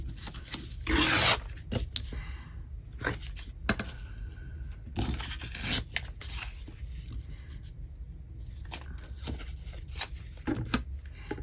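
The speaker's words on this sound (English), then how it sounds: "I'm going to tear off this edge and that." Paper edge is torn and rubbed by hand while making a no-sew mini journal, with a sharp ripping burst early, then scattered scrapes, rustles and small tears close up, no talk.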